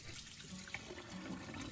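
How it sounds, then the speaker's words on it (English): Beef pieces rinsed by hand under a running kitchen tap, a steady broadband rush of water with no talk, fairly quiet throughout. "rinse it under running water to completely remove the baking soda"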